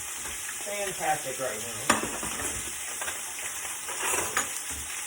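Onions frying flat side down in a hot pan, a continuous crackling sizzle with occasional stirring scrapes and a sharp utensil knock, close up, with a brief spoken remark.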